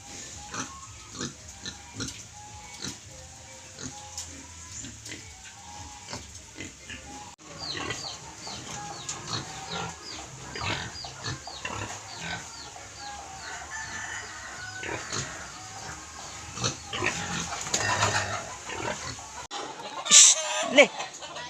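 Pigs grunting and squealing on a countryside farm in the Philippines, with chickens clucking and a rooster crowing around them, repeated close animal calls growing busier and louder toward the end, alongside some talking.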